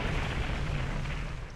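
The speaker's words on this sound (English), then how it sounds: "I think that was a real explosion." A film explosion from The Man With The Golden Gun (1974) fills the moment as a steady, dense roaring rumble, loud and sustained without a sharp onset, easing slightly at the very end.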